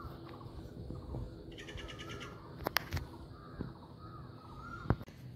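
Crows cawing outdoors near Nilbarahi temple in Bhaktapur, several harsh calls over a steady background murmur, with sharper louder caws standing out around the middle and near the end.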